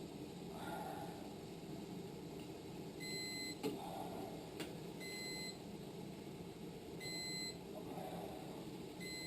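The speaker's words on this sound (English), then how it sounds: "As you can hear, the beeper goes off and then it goes back on and then it goes off." While maple syrup is being finished from near-syrup, an electronic beeper on the evaporator sounds in short repeated bursts of high tones, going off and coming back, over a low background hum with faint rustling.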